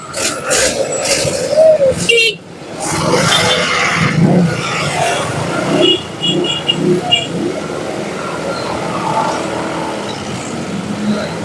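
Dense city road traffic heard from a motorcycle riding through a congested street near a school, with engines revving and a continuous roar of vehicles close by and no clear talking.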